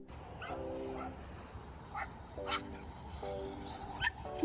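Dogs at a dog park, several faint short yips and whimpering barks in scattered bursts over low outdoor background noise, heard from a distance.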